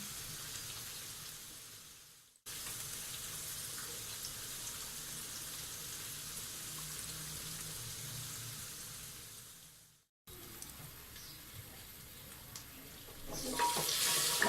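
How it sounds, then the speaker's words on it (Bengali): Pumpkin pieces fry in oil in a pan for a beef curry, giving a steady, close sizzle that drops out briefly twice before resuming, with a few light scrapes near the end. "মাঝারি আছে মিষ্টি কুমড়াগুলো এরকম করে ভেজে নেব। ম্যাক্সিমাম 3 থেকে 4 মিনিট ভাজলেই এটা হয়ে যাবে।"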